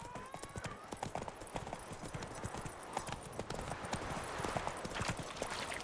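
Roach the horse gallops in The Witcher 3, a steady rapid clip-clop of hooves running through the whole stretch, close and fairly loud, with a brief whinny-like tone near the start.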